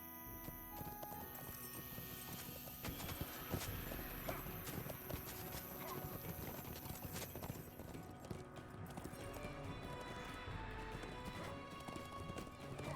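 A horse in the game LOTRO clip-clops in a steady rhythm while being ridden, with a brief whinny. The hoofbeats are close, loud and continuous, with other game sounds faintly behind them.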